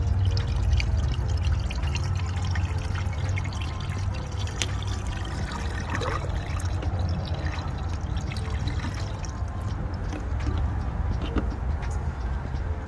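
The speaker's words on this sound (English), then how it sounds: "So it gives you an idea of how much windshield wiper fluid this thing takes. So it takes about 3/4 of a bottle. So we're just gonna refill it." Windshield washer fluid poured from a bottle into a vehicle's reservoir, a steady close trickling and gurgling over a low rumbling background that runs throughout.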